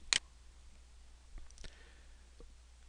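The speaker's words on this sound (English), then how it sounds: "click on Next" A single computer mouse click sounds sharply near the start, then a couple of faint ticks follow in near silence.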